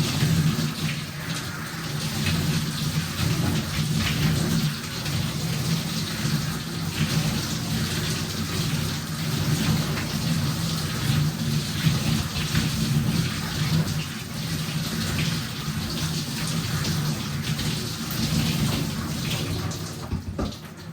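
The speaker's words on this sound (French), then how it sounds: "je mets l'eau sur le froid. Je rince les cheveux." Cold shower water rinsing hair: a constant, close hiss of spray splashing for about twenty seconds, loud and unbroken, with no voices.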